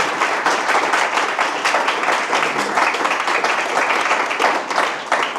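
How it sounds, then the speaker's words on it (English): An audience at a live AI meetup presentation claps steadily and loudly for several seconds, a dense, even wash of applause with no talking. "let's first give them applause"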